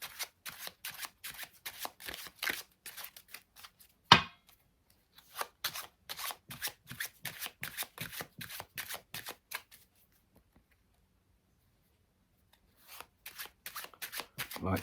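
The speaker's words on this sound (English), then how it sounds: "So here's the overhand shuffle." Rapid, riffling overhand shuffles of playing cards in repeated bursts, with brief pauses between runs and a sharp slap midway; close and crisp, no talking.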